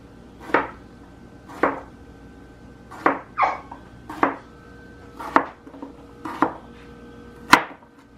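A knife chops potatoes into small half-inch pieces on a board, with about eight separate sharp cuts spaced roughly a second apart in a quiet kitchen.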